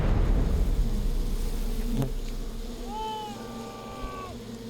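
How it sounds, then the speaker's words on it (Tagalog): Bees swarm close to the microphone in a continuous buzzing drone, with a few higher whining tones rising near the end. "Bata pa lang daw si Bong, sanay na siyang makihalubilo sa mga bubuyog."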